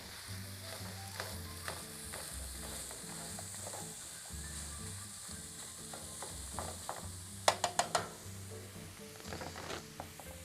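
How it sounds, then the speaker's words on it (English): About a pound of 80/20 ground beef fries in a pan with a steady sizzle, stirred throughout with scraping utensil clicks, and a short burst of sharp clatters near the end. "we'll cook the ground beef"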